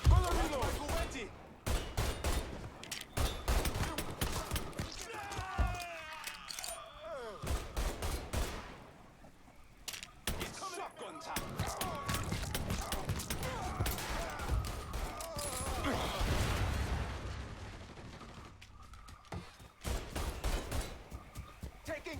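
Shotgun blasts and other gunfire in Mafia III ring out as many loud, sharp shots scattered throughout amid chaotic combat noise, with a few brief lulls between volleys.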